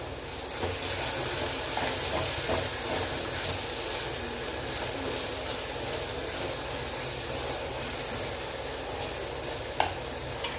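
Drumsticks and garlic sauté in a pan with a soft, steady sizzle and occasional stirring scrapes, faint and continuous throughout with no talking.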